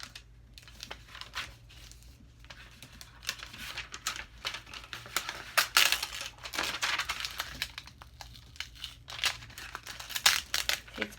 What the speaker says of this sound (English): You peel the whole thing up and it wants to come up.